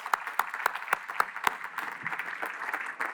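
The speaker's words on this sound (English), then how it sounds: "Let's give them another round of applause." A graduation-ceremony crowd claps outdoors at a university courtyard, with individual sharp claps standing out over a softer wash of applause that thins toward the end.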